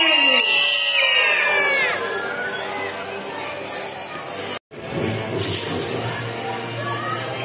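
A crowd of children screams and cheers loudly at a seaside dance show with a tiger mascot, a dense wall of high-pitched shouting and excited voices that cuts out for a moment, then carries on with a lower rumble.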